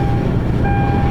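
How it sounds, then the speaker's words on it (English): Vehicle reversing beeps ring as a steady high tone over a loud, rumbling engine and road noise while a car is towed home, the beeping continuing throughout the brief stretch. "Got beeps going off."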